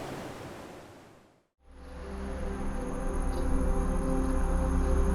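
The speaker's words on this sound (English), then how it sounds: "The waterfalls of Bihar." A waterfall in Bihar roaring as a steady broadband rush of falling water, briefly dropping to near silence before returning loud and continuous.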